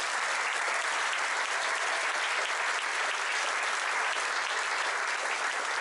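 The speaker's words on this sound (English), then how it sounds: "So I'd like to give all the volunteers a round of applause." Festival volunteers receive a round of applause from an outdoor art festival crowd, steady dense clapping that holds at an even level throughout.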